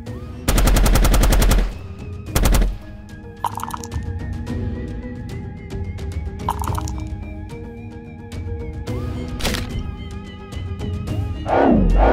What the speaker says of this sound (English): the massive Warjack unleashed a barrage from all three of his ranged weapons